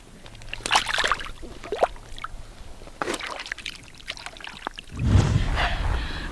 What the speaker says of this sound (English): Gonna release him back into the water.